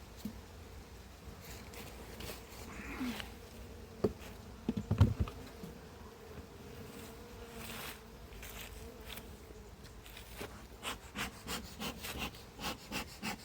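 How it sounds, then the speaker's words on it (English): A wasp buzzes close around a beekeeper's head at an apiary, its drone rising and fading as it circles, with scattered knocks and rustling from hive work and a steady outdoor background. "There's a wasp around my"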